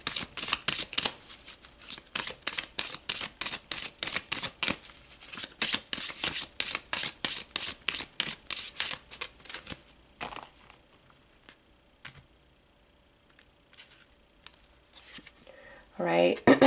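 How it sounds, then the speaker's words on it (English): Oracle cards are shuffled in a rapid, rhythmic run of crisp riffling flutters, which then thin to a few soft slides and taps as cards are drawn. A voice starts briefly at the very end. "So let's pull some cards to look at your spiritual energies"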